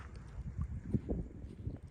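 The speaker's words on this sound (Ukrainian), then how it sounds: "Знов здійнявся вітер шалений" Gusty wind buffets the microphone in low rumbling bursts at Lac de Pannecière, France, during a carp fishing championship, with no voices present.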